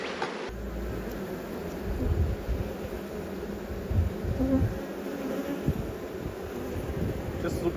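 Honeybees swarm and buzz around an open hive box during an inspection, a steady dense drone close to the microphone with faint wind noise and no talking.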